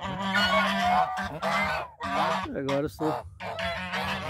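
A goose honks loudly and repeatedly at close range on a farm, the calls strong and continuous with short breaks, while a person speaks briefly in Portuguese among the honks.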